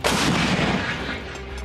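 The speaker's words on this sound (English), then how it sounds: "howitzer artillery cannons" A howitzer artillery cannon fires a single loud, close blast that booms across the whole range and then rolls away into a decaying rumble.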